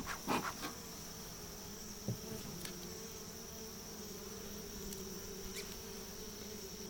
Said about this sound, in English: Well, I haven't had a bee try to land on my glove yet.